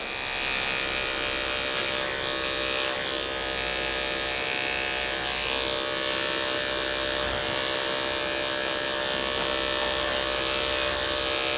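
Hair clippers fitted with an OA detachable blade hum loudly and continuously at close range while cutting a high skin fade, a steady, bright electric buzz with slight wavering as the blade moves through the hair.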